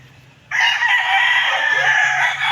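A rooster crows loudly and close, one long sustained call, among a flock of many chickens kept for sale, with low background murmur before it starts.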